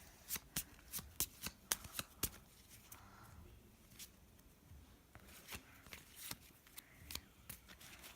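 A spectator shuffles a deck of playing cards during a card trick, producing repeated quick riffling bursts in two clusters with a brief pause between them, close and clear with no talk.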